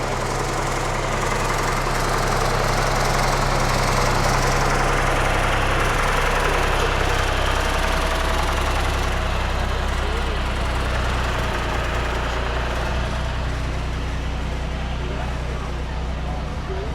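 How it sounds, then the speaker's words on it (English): A heavy tractor engine idles steadily at a Memorial Day parade in Underhill Jericho, with a deep, continuous rumble and knocking throb, loud and close throughout. "And this is Andy Chamberlain driving this tractor."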